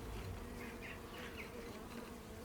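Honey bees buzz around an open brown hive during a quick spring inspection, a dense continuous drone with individual bees flitting closer in brief rising whines; no talking.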